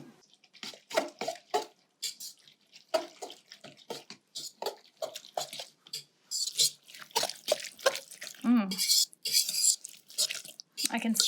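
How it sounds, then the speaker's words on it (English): A whisk clatters against a bowl as grated carrots are stirred into a sesame-oil peanut noodle sauce, producing bursts of rapid, irregular scraping and tapping with short pauses between strokes. "we just whisk it all up"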